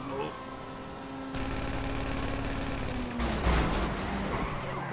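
Gunfire rattles during a Diamond Casino heist in GTA Online, first sparse shots, then a sustained burst of rapid fire and heavier blasts near the end, with a tone humming underneath.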